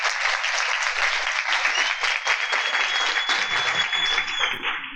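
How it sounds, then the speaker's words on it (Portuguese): Dense, loud applause fills a hall at a health and entrepreneurship congress in Sergipe, Brazil, a continuous crowd of clapping hands with voices faintly mixed in and a brief whistle-like tone. "Uma salva de palmas para as meninas."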